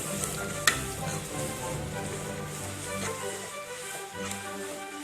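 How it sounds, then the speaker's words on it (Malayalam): Masala sizzling as it is sautéed in a pan with pepper powder and salt for Kerala-style beef ularthiyathu, with a steady frying hiss and occasional stirring scrapes and clinks, no talk. "കുരുമുളക് പൊടി, 1/2 സ്പൂൺ ഉപ്പ്, ഇതൊന്ന് ചേർത്ത് നല്ലതുപോലെ ഒന്ന് വഴറ്റാം"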